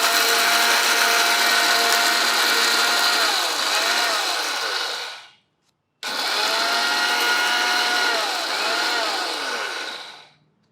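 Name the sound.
mixer grinder grinding black gram for chutney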